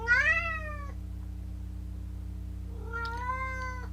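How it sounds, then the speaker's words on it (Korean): A cat meows twice, a rising-falling call followed by a second longer meow after a pause, over a low steady hum. "우리 고양이가 소리를 좀 냈습니다."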